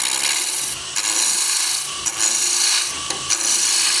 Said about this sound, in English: So I'm going to take my spindle roughing gouge again